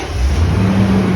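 A drunk driver's truck engine revs hard and steadily at close range while the truck backs into a building wall, a loud continuous roar with no talking.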